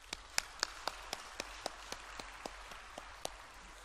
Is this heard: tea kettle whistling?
no